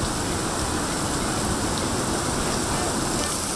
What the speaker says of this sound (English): That's a lot of rain, really fast.